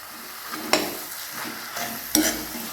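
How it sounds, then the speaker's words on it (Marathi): Fried ridge gourd stirred into sizzling masala in a pan, with a soft continuous sizzle and two sharper scraping clatters of the spoon, close up. "मसाल्याचं छान असं दोन मिनटं परतून घेऊया दोडके सारे"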